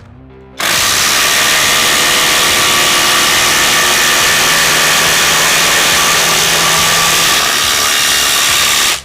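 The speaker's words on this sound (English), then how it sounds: "Now for the impact drill with a 5-inch lag bolt." A cordless impact drill drives a 5-inch lag bolt into wood, a loud, steady, continuous whirring hammer that starts abruptly and runs for several seconds before cutting off.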